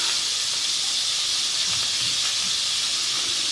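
Garlic hissing and sizzling steadily in melted fat in a pan, a continuous fairly loud frying sound with no talk.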